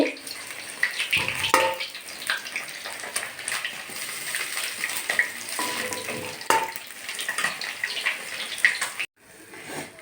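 Steady crackling and hissing of catla fish pieces frying in hot oil, close by, with occasional clinks and scraping as pieces are moved; no one speaks.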